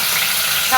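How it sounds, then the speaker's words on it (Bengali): Cumin seeds tempering in hot oil, a loud, close, dense hiss and crackle held steadily for under a second. "তেলের মধ্যে দিয়ে দিব জিরে, অল্প কটা জিরে ফোড়ন দিয়ে"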